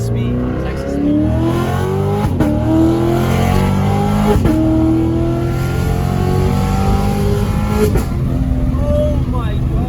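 A Corvette fitted with headers and an X-pipe exhaust revs loudly and close by, its engine note climbing and falling through several repeated throttle blips.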